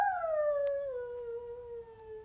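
Genevieve, a dog, lets out one long, clear, tonal howl that slides gradually downward in pitch like singing, sustained for about two seconds and heard close and alone.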